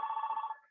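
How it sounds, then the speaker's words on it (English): A telephone rings once, a short bright electronic trill with a fast pulsing warble that fades out within a second, heard faintly and alone. "that's a phone ringing from somebody"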